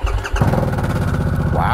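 A 2022 Harley-Davidson Nightster 975cc motorcycle engine fires up and revs, loud and close, its throaty rumble rising briefly before settling.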